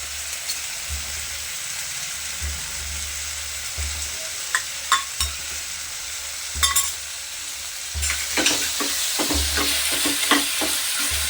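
Ginger paste fries in a pan for dal khichdi while a spoon stirs it, a steady close sizzle broken by repeated scraping strokes that turn quicker and busier toward the end, with no voices.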